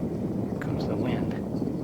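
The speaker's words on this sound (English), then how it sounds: "Here comes the wind." Wind gusting outdoors in cold weather, a dense continuous low rumble and buffeting roar across the microphone, loud and steady throughout, with faint voice-like traces above it.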